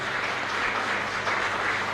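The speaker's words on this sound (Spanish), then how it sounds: "Fuerte aplauso entonces para el Señor." A congregation at a church Mass applauds loudly and steadily, a dense wash of clapping that fills the room without a break.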